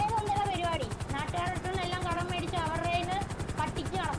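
A helicopter's rotor throbs in a steady, fast, even chop throughout, loud and close, while people talk over it.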